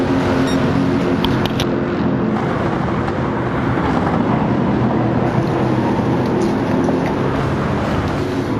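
Racing cars crossing the start-finish line at Brands Hatch in Gran Turismo 7, a loud continuous engine roar with passing cars blending into a dense drone, no speech heard.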